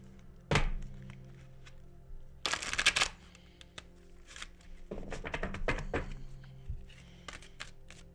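Tarot cards are shuffled in a quick riffle burst, surrounded by soft thumps and taps of the deck being handled and squared on a surface.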